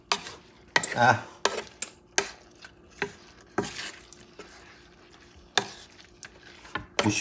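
Scraping and tapping of a utensil in a bowl as squash belly is stirred into crab meat stuffing, a series of sharp irregular clicks and knocks up close, with quieter mixing in between.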